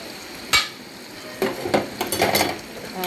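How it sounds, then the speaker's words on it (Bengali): Onions frying in oil in a kadai as a spatula stirs them, giving a few scraping, clattering strokes over a soft steady sizzle, close and fairly loud. "পেঁয়াজটা লাল লাল হবে তো নাড়া দিচ্ছি"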